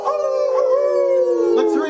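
Several people howl together from behind bushes in long, wavering, wolf-like cries, imitating animals, loud and sustained with slowly falling pitch.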